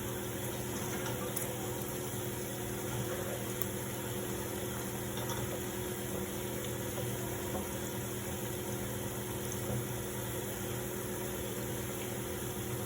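Okra (lady's finger) fries in oil in a pan with a steady, even sizzle and crackle that runs the whole time, close and moderately loud, with no talk.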